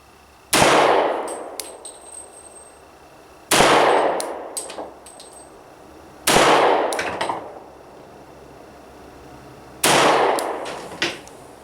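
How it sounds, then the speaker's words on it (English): Four loud, sharp .40-caliber pistol shots from a Beretta 96 Brigadier Elite II, fired singly at roughly three-second intervals, each with a ringing tail that fades before the next, the first fired through a long double-action trigger pull. "I'm going to press out and shoot through that first long double action pull"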